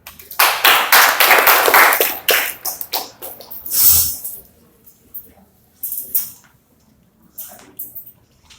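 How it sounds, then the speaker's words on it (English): Seminar audience clapping for the speakers in short, uneven bursts: a loud round of applause up front that breaks off, then a few scattered claps and brief flurries trailing away into quiet. "give a big applause for our speakers today"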